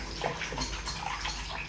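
Cornflour and sugar mixture whisked by hand in a bowl, a soft, quick, close sloshing and tapping rhythm that continues without pause, no talking.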